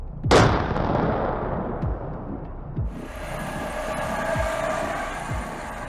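A Swedish Archer self-propelled howitzer fires a single loud, close cannon round, a sharp blast that rolls into a long, echoing rumble with distant mechanical noise continuing afterward.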